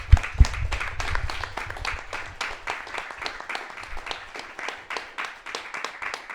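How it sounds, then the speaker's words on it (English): An audience at a film-festival debate event claps for the guests, a dense, steady patter of many hands near and even in volume, with a couple of sharper thumps at the start. "a big applause for the guests tonight"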